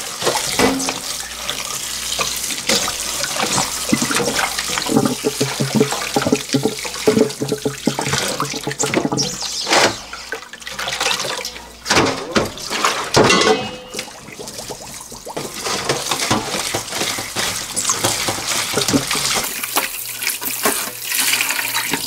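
Tap water runs and splashes into a sink while agar seaweed is rinsed by hand, a loud, close, continuous gush with shifting sloshing as the seaweed is moved.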